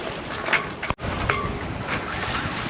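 Wind noise and sea rush on a sailboat running along the coast in a westerly swell, a loud steady roar of gusts buffeting the boat with a brief dropout partway through.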